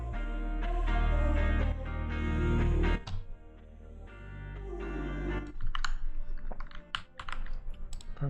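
Computer keyboard keys tapped while writing code for LED scripting, the clicks coming in irregular bursts over a loud humming background that drops off partway through.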